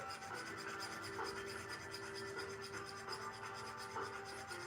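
A coarse cut 2 file rasps steadily across a silver ingot, taking off excess metal in a continuous dense scraping with repeated strokes at close range.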